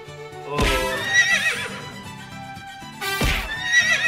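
Horses in the Bollywood film Karan Arjun give two loud whinnies, each breaking into a sharp, drawn-out neigh with hoofbeats and film sound underneath.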